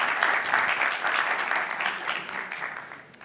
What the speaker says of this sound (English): A round of applause for her and for Mars.